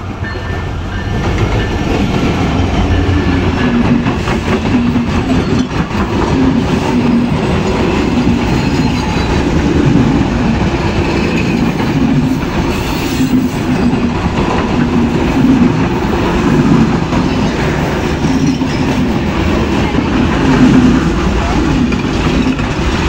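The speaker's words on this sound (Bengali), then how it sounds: "ট্রেন কিন্তু চলে এসেছে, গুলির বেগে আসছে" A train roars past at high speed close by, a sustained loud rumble of wheels and carriages on the rails with faint clattering throughout.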